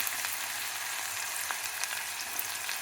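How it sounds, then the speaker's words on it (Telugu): Onions and green chillies fry in a pan for a potato and soya curry, giving a steady, even sizzling hiss with faint crackles throughout and no talking. "ఎప్పటిలాగే ఉల్లిపాయలు పచ్చిమిరపకాయలు వేసి ఎర్రగా వేగించుకోవాలి."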